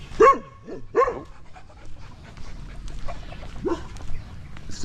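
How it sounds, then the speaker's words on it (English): A single dog barks to call other dogs in the Philippines: two sharp barks in quick succession, then a pause and one more bark, moderately loud and near, with faint outdoor background and no talking. "It's a single dog trying to call others."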